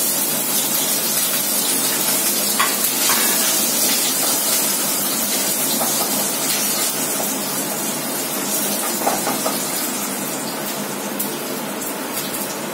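Food is dropped into hot oil and fries with a steady, dense sizzle and hiss that stays loud and close throughout, with faint crackles over it.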